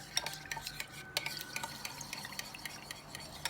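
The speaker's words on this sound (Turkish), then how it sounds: "Buna su ekleyeceğim biraz. Bunu güzelce karıştıracağım." Spoon clinking and scraping against a bowl while tomato paste is mixed with water for a vegetable stew sauce, quiet irregular taps and light ringing knocks near the mic.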